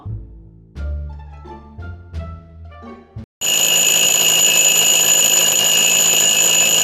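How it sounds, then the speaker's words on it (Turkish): In the Roblox game Brookhaven, a few soft musical notes play, then a loud, shrill alarm clock rings continuously without a break. "alarm alarm alarm çaldı."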